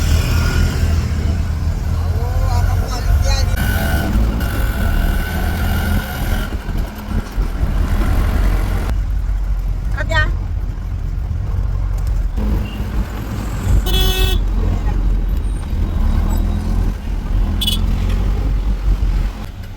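Auto rickshaw ride through city traffic in Pune, with a constant close engine drone and road roar, brief horn beeps cutting in now and then, and no speech.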